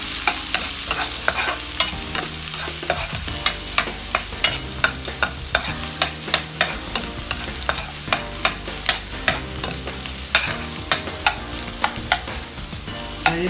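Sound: garlic frying and being stirred in hot oil

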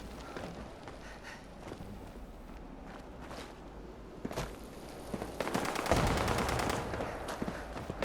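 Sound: gunfire in a shooter video game

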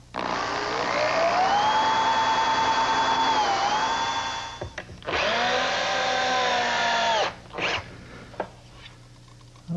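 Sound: power drill driving drywall screws into a leg

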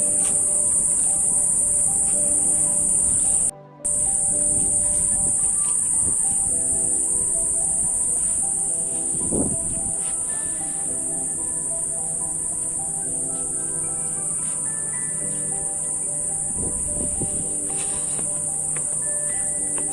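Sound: crickets chirping by the Ganges riverside garden

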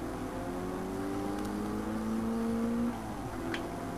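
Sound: car engine in video game Forza Motorsport 4

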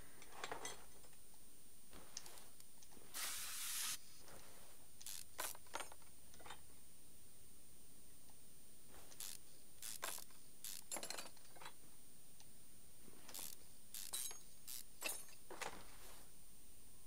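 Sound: spray painting car parts in Car Mechanic Simulator 2021 video game

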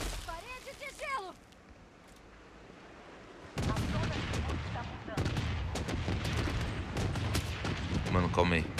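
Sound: gunfire in a video game

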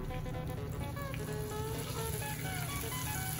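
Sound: cauliflower frying in oil

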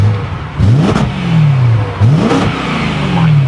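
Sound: BMW M3 manual car engine revving

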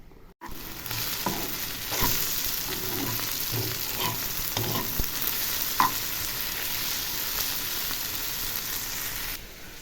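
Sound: pancakes frying in a pan

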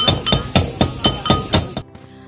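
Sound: fried hilsa fish tails pounded in mortar and pestle

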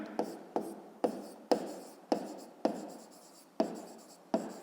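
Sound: writing with a red pen on paper

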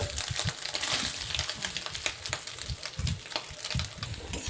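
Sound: soybean chunks frying in oil

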